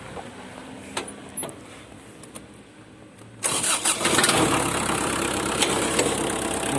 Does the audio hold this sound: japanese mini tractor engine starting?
yes